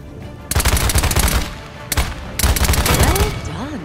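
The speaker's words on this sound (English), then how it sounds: "Your primary weapon is your assault rifle." Assault rifle fire in the Paladins video game rattles out in three loud, close bursts of rapid shots separated by short pauses.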